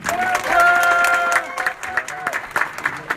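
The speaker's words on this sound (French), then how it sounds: "Applaudissez pour lui, s'il vous plaît." A crowd at a political rally claps and cheers, the applause swelling then thinning into scattered claps, with a voice speaking over it.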